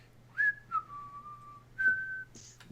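A person whistles while walking, a few short, clear whistled notes with gliding pitch and brief pauses between phrases, close and fairly quiet over a faint low hum.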